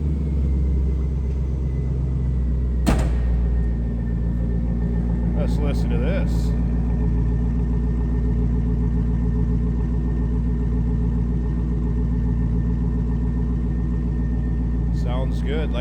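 Steady low engine rumble at idle from a 2002 Chevrolet Camaro Z28's 5.7-liter LS1 V8 with SLP intake and exhaust, deep and continuous, with a person talking over it.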